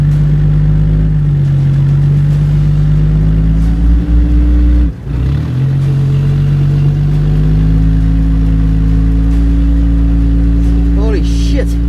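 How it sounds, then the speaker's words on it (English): A Toyota Land Cruiser engine in low-range gear holds high, steady revs under load while winching on an abandoned track in a storm, a loud close drone with a brief dip midway and a rising note near the end. "With the Land Cruiser in low 4-second gear, I'm applying load to the winch cable again, keeping the revs up with the vehicle at biting point"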